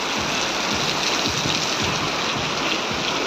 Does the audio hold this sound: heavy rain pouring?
yes